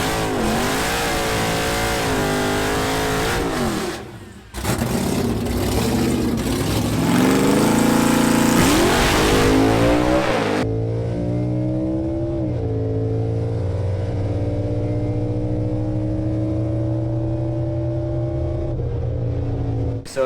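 A Camaro race car with a stock-bottom-end LT1 6.2 engine, custom heads and cam, revs hard in a loud close burst, briefly drops, climbs again to a high peak, then settles into a lumpy idle.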